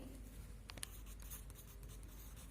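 Writing by hand in a Class 3 Hindi lesson, soft close scratchy pen or pencil strokes in short uneven bursts against a quiet hiss, no talking.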